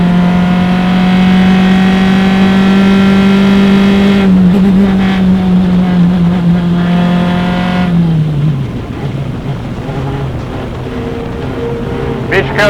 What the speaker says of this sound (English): but Mishko still driving the car hard